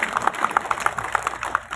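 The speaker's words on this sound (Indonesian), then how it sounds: "Beri tepuk tangan yang meriah." Applause rises at a formal ceremony in Central Java, a steady patter of many hands clapping at moderate distance, with a few sharper individual claps standing out over the wash.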